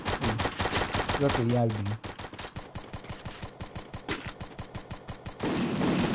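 Rapid automatic gunfire in a Free Fire match, a fast steady rattle of shots that runs through most of the stretch, with a person talking briefly at the start over the shooting.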